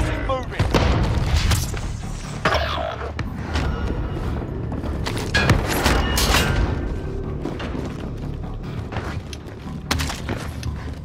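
RPG rockets explode in Call of Duty Warzone on Rebirth Island as a series of heavy booms and thuds amid scattered gunfire, with players talking over the action.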